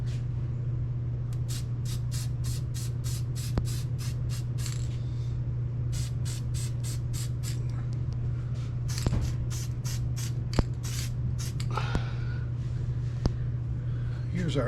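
Repeated short hissing bursts of ceramic coating spray in quick rhythmic pulses, set against a steady low machine hum, with a few faint clicks between passes.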